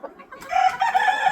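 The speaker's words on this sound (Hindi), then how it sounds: "सब अंडे वाली मुर्गी है।" Desi laying hens making fowl calls, a mix of clucks and a crowing-like cry building after a quiet start, close and fairly loud with no talking over it.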